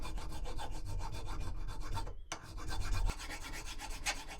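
Metal file rasping down a key clamped in a vise, steady back-and-forth strokes close and clear with a brief pause midway.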